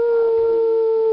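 At a furry convention, a person imitates a dog's howl with a voice: one sustained, steady, tonal wail held for about a second, close and clear, falling slightly at the end.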